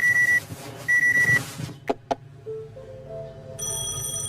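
A telephone rings in the Penelope Pendrick video game: two short electronic ring bursts, then clicks and game tones, loud and up close over a low background hum.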